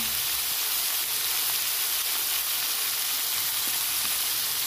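Raw potato pieces with cut vegetable stems, salt and turmeric frying in a pan, producing a loud, dense, continuous sizzle and hiss that holds steady throughout with no talking.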